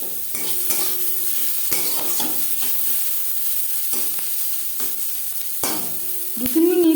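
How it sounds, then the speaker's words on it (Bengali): Carrots, onion and capsicum fry in a pan for pasta, a steady sizzle broken by repeated scraping strokes of a spoon stirring the vegetables, close and clear with no talk. "পেঁয়াজের সাথে গাজর নাড়াচাড়া করে নেওয়ার পর দিয়ে দেবো ক্যাপসিকাম"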